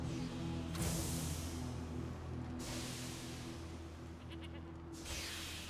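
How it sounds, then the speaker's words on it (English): Sheep bleating in the Divinity: Original Sin 2 fantasy role-playing game, a few moderate calls rising over steady game ambience and a low hum, with no talk. "Herd of sheep."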